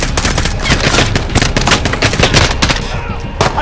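Sustained rapid machine-gun fire rattles loud and close in a Call of Duty: Modern Warfare (2019) battle, dense bursts with barely a pause across the stretch, no talk over it.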